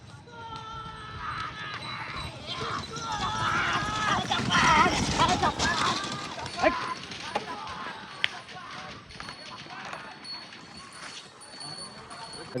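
Bulls pulling carts thunder past at a bullock cart race, hooves drumming in a fast, uneven patter amid crowd shouts and a commentator's voice, building to a loud burst midway before fading.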